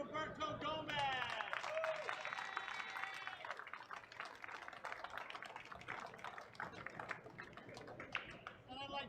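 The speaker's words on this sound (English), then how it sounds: "I'd like to have a nice round of applause for our runner-up in this event, Mr. R.GOMEZ" Applause for the runner-up at the trophy presentation after a 10-ball pool final at the 2021 FargoRate Ohio Open, a faint, sustained scatter of clapping from a small crowd, with an amplified voice speaking at the start.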